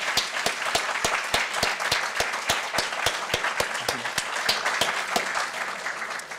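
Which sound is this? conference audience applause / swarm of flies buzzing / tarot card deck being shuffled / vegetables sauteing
conference audience applause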